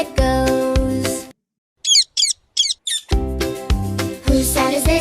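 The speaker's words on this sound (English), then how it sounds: "This is a parrot" A parrot squawks in four short, sharp, harsh bursts that sit in a gap in the music of an animal-sounds children's song.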